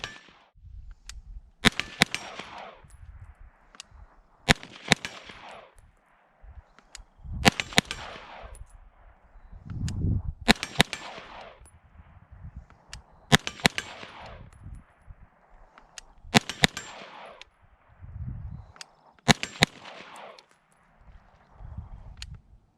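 An Aero Precision pistol caliber carbine fires spaced shots, some in quick doubles, each a sharp crack with a ringing echoing tail, while clanks and background noise fill the gaps between shots.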